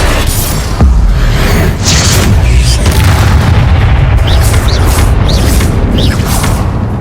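Confringo spell explosions in Hogwarts Legacy combat, a loud booming blast followed by a dense, continuous roar of repeated magical impacts and whooshing bursts, with several sharp high zaps near the end.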